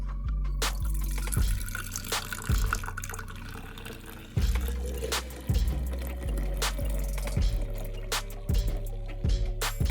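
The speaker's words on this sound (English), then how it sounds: "now I'm just gonna dump this right into the jar and see what we come up with" Freshly pressed sugarcane juice poured into a canning jar: a liquid gurgle and splash running throughout, with repeated low thumps in an irregular rhythm.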